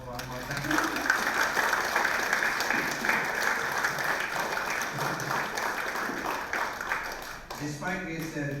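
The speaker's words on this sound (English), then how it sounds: "we should give him a round of applause one more time" Audience applause fills a hall after a health talk, sustained and fairly dense for several seconds before trailing off, with a voice briefly audible near the end.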